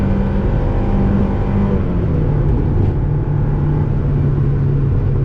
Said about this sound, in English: Still to the floor. That's how you drive a Miata.